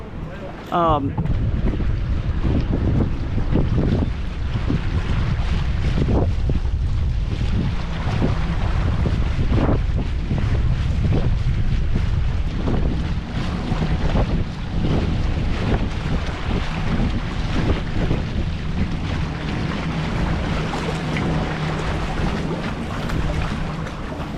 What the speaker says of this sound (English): very rough and raw testing of a motor on the Shoalie for the first time here at Lewis Smith Lake in Alabama